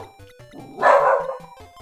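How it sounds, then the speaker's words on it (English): A dog barks once loudly at close range, a single harsh yip rising over quieter background sounds and brief bits of other noise, with no speech over it. "My dog is very aggro, right?"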